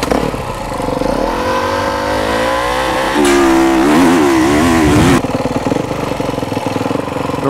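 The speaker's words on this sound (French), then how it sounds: "je mets pas trop de coups de gaz pour pas trop faire chauffer la moto" A motocross motorcycle idles at the start gate, then takes a few short, controlled blips of throttle that swell into a louder rev. The engine is close and loud, steady before and after the revs, with no voices.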